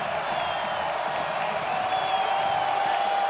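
A large crowd at a college baseball game between Oklahoma and Texas at the Dish keeps up a steady, distant roar of cheering and noise, unbroken throughout.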